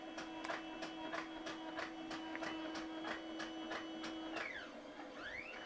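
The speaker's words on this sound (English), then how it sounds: "I'm going to do test print, and it's going to do a test print for me." A Roland BN-20A printer runs a test print with a steady mechanical whir and a rapid, regular series of carriage ticks over a constant motor hum, ending in a couple of swooping servo sweeps, close and alone.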